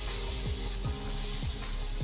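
Ginger and garlic paste fries in hot mustard oil for a Bengali fish curry, a loud, steady close-up sizzle with regular scraping strokes of stirring.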